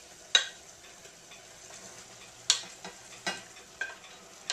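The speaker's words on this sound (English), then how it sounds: "I want it to keep boiling for just a bit, so some of it reduces down" Stir-fry liquid for chicken ramen noodles bubbles and reduces in a pan, a soft, steady sizzling hiss broken by a few sharp clicks and knocks of utensils against the pan.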